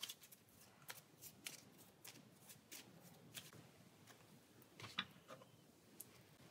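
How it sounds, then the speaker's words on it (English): Playing cards shuffled by hand into a deck during a tabletop Pathfinder Adventure Card Game session, a run of soft, close riffling and sliding taps repeating irregularly over quiet room tone. "So then the minion will get shuffled back into our deck here."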